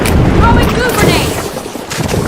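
Goo grenade bursting in the game The Finals, a loud close boomy blast with a wet rumbling tail, mixed with game noise and a brief voice.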